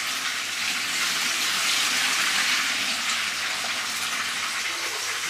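Rice being washed under a running tap for a curry chicken and white rice meal, a steady close rushing of water filling and splashing with no pause, loud and alone without talk.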